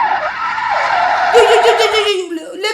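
A car drifts out of control, its tires skidding in a loud, continuous screech over a revving engine, with the pitch wavering and sliding downward toward the end.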